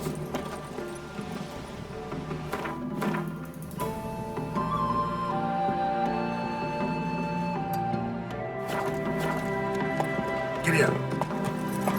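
A horse gallops in The Witcher 3, its steady hoofbeats running continuously under dense game music and other layered sounds.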